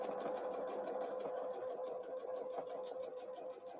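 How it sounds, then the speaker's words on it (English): A sewing machine back stitching on a Christmas tree napkin runs in a fast, steady, even whir with a faint scraping from the bobbin inside, quiet and continuous with no talk. "I hear my bobbin scraping inside there."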